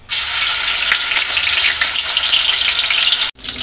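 Ginger garlic paste hitting hot oil in a kadhai for chicken masala, a loud, close, crackling sizzle that holds steady, then cuts off briefly near the end before resuming, with no talk.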